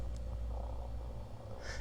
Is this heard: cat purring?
yes